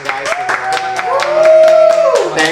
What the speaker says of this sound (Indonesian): Igor, tepuk tangan dong guys.